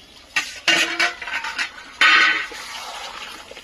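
Meat cooking in a pot on a clay stove, with irregular bursts of clattering, scraping stirring and wet, liquid sounds, close and fairly loud.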